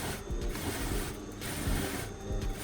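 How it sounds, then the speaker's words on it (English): A sewing machine stitches shirt fabric in a faint, close mechanical whir with rhythmic clicking pulses roughly every second. "And let's sew this again."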